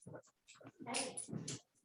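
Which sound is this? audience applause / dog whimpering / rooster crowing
dog whimpering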